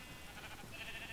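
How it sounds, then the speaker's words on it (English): Brief sheep bleat from the Minecraft video game, a short faint wavering cry heard alone against a low background hum. "Come here, sheep. I want your hat."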